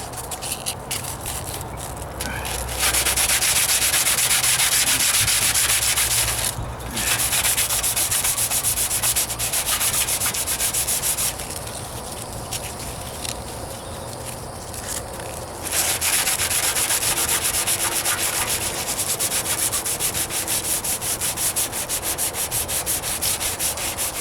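Hand block sanding of primer on the trunk of a 1998 Toyota Corolla: long stretches of loud, close, steady rasping back-and-forth rubbing, broken by brief pauses, with no voices.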